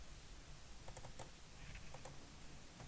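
Quiet typing on a computer keyboard, a few quick clustered keystrokes and clicks over a soft hum, with no one speaking.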